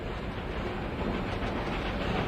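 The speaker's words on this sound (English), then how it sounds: "People at the beach watching this train go by." A train rolls steadily past in a train simulator game, a continuous dense rumble with faint rhythmic rail clatter, close and even throughout.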